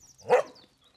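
An Akita gives a single short bark, close and fairly loud, a sharp rough burst followed by quiet.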